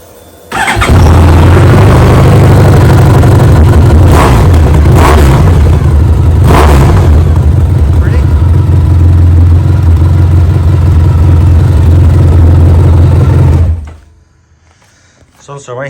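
A 2010 Honda VFR1200F motorcycle fitted with a new DAM exhaust starts up and idles loud and close in a deep, steady rumble. Several quick revs rise over the idle before the engine cuts off.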